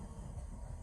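A Class 465 electric train rumbles past close by, a steady low roar of wheels and motors with a soft rattle over a brief stretch.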